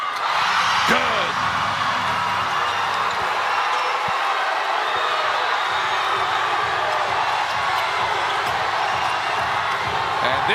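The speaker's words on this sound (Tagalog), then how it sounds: "this crowd is electric on a Tuesday night" A packed arena crowd roars steadily at a PBA Season 50 Commissioner's Cup basketball game, Meralco versus TNT, a dense, constant cheer with squeaks and a ball bounce beneath a commentator's voice.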